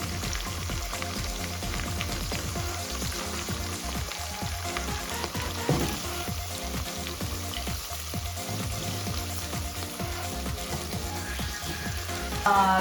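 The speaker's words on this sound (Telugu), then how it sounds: "ఇప్పుడు నేను అల్లం చిన్నులపై పేస్ట్ వేస్తున్నానండి, 1 స్పూన్." Ginger garlic paste sizzles in a hot pan for a brown basmati veg biryani, a steady crackling fry with fine spattering pops that continues evenly throughout.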